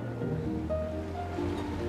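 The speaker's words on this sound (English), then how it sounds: "That opens the paddles, lets the water in, and raises the boat up to the next level." Water surges into a hand-cranked canal lock as the paddles open to raise a barge, a steady churning rush with low rumble and tonal hums from machinery, continuous and fairly close.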